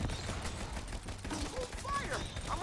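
Bursts of rapid gunfire in a shooter video game during a boss fight, loud and dense with mechanical clatter, a voice faintly mixed in.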